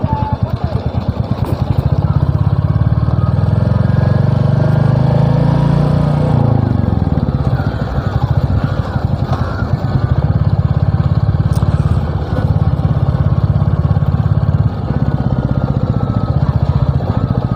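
A Royal Enfield 350 motorcycle thumps loudly at close range, its throttle blipped lightly so the engine note swells briefly and then settles back to a steady idle.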